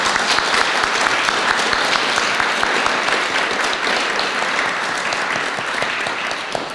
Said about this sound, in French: Cet applaudissement, c'est pour tous nous qui étaient là